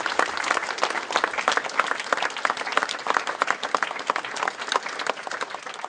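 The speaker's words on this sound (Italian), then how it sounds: "Un lungo applauso ha poi accolto il feretro portato a spalla all'uscita dalla chiesa." Long, steady applause from a crowd outside a church in Santa Marina as a coffin is carried out on shoulders at a funeral, dense clapping held at an even level throughout.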